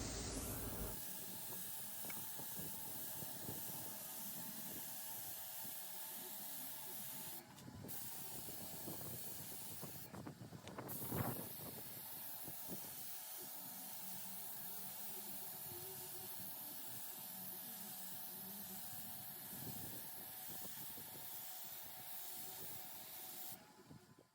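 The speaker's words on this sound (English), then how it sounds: "I prefer to spray with the drawers in" A paint sprayer spraying a dresser gives a continuous hissing spray for the whole stretch, steady and fairly faint, with a couple of brief pauses and a soft clunk midway.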